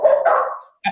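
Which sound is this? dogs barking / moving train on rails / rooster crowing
dogs barking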